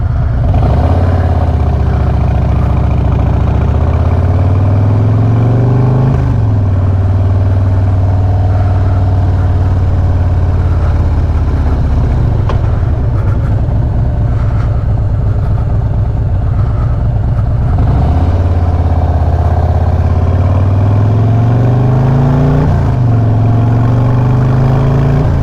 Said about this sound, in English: Pop her in gear and let's get going.